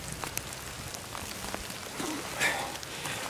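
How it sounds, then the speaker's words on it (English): Steady patter of rain falling on the Swamp Fox Passage of the Palmetto Trail, dense scattered drops and splashes close by, with a slight swell in intensity partway through and no talking. "So, using that guy and just out here in the rain today."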